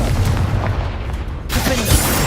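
Incendio and Confringo spells going off in Hogwarts Legacy: a loud rumbling boom, then a second bright fiery burst with crackling hiss about halfway through, both close and dense, with no talking.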